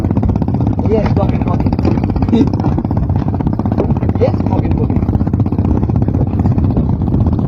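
A steady, chugging trawler boat engine runs close by on a river during hilsa fishing, a continuous low mechanical drone with faint clatter.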